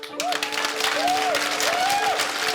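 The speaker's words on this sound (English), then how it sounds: "What did you think when everyone stood up at the end clapping?" Applause from an audience giving a standing ovation, a dense steady wash of clapping throughout, with a sustained gliding tone running beneath it.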